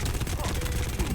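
Mauga's chain gun in Overwatch 2 fires in a dense, rapid rattling burst against Roadhog, loud and continuous throughout.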